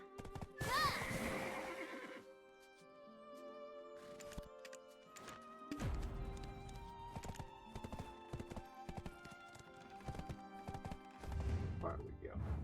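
Horses in the Black Desert game region of Serendia whinny loudly near the start, followed by scattered hoof clops and game sounds, with faint speech at moments.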